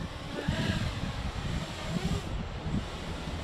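A 7-inch FPV quadcopter drone flying outdoors on a windy day, its propeller buzz steady and moderately distant beneath rumbling wind noise throughout.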